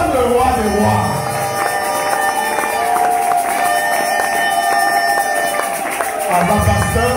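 A church congregation at a wedding service cheers and acclaims loudly, a dense crowd roar with overlapping shouts and raised voices sustained throughout.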